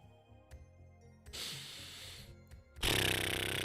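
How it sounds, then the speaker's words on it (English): A power drill whines nearby in a room, starting with short bursts and then running in two longer loud stretches, with no talking over it. "Sorry for the drilling, by the way."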